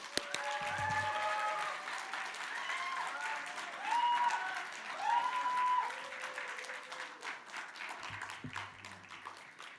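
Audience applause welcoming a speaker to a youth church gathering, steady dense clapping sustained for about ten seconds at moderate distance, with faint voices and a few soft vocal sounds rising over it.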